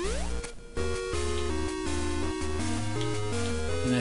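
A game music tune from The Legend of Zelda: Oracle of Ages plays steadily and loud throughout, with a layered chiptune-style melody over a bouncing bass line and a brief dip near the start.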